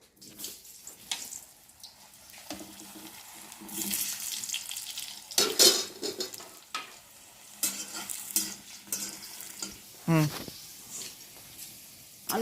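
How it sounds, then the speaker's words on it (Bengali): Diced potatoes frying in oil in a pan, a soft sizzle with intermittent scraping and stirring bursts, a sharp clink near the end, moderately close with some background noise. "আলুগুলো আগে ভেজে নেব।"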